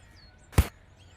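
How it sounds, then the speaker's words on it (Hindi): A single sharp slap across the face lands once in a Hindi film scene, a loud, crisp smack standing alone against a quiet background. "ये थप्पड़ इसकी तरफ से था"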